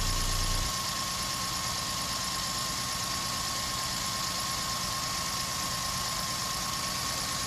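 A Citroen SM engine idles steadily during a distributor points service, a constant close mechanical hum with a high whine running throughout, after a brief lower rumble at the start.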